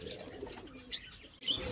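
Pigeons in a mixed breeding colony, with brief soft coos and chirps and a couple of short flutters, fairly quiet and close, spread over under two seconds.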